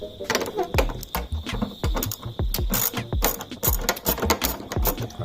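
Quick bursts of ratcheting clicks from a 10mm socket ratchet loosening a screw on a Yamaha YZF-R125 motorcycle, sharp and close, in repeated short runs with brief pauses.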